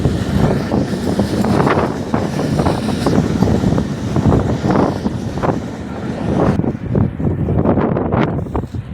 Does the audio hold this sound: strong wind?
yes